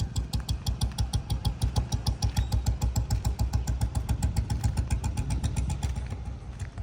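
A 1994 Royal Enfield Standard Bullet rolling along in first gear, its single-cylinder engine thudding in a fast, even beat, close up and alone, easing off slightly near the end.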